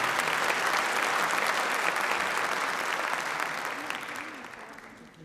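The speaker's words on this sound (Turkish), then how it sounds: "Sayın Nurşah Özyürek, alkışlarınızla açılış konuşmasını yapmak üzere sahneye davet ediyorum" A hall audience at a Caucasian association cultural night in Kayseri applauds to welcome a speaker to the stage. The dense, steady clapping holds loud, then gradually thins and fades toward the end.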